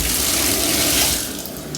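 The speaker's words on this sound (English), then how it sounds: "We're gonna be using warm water to get us started" Warm water runs steadily from a tap for hair washing, a continuous broad splashing hiss that fades slightly toward the end, with no voices.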